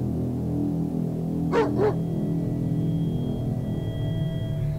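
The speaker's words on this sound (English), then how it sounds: "I think that dog's trying to tell us something." Two quick dog barks in the State of Survival video game, close and clear over a steady low background drone of game ambience, no talk.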